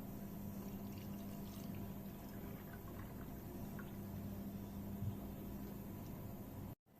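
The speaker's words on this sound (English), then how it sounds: "And pour this in the cup." Sodium hydroxide solution is poured steadily into a cup, a soft continuous trickling that stays faint and even before stopping abruptly.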